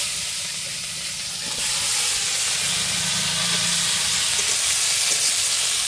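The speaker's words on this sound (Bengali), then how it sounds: "ফোড়ন দিয়ে দিচ্ছি একটু গোটা জিরে, এবার কেটে রাখা শাকের ডাঁটা আর আলুগুলো দিয়ে দেবো।" Greens stalks and cubed potatoes frying in a little oil with whole cumin seeds, giving a steady broadband hiss and sizzle that grows louder after the first second and holds, with no talk.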